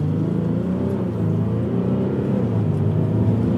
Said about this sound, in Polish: Podbij obroty. I puść hamulec i do końca do dechy.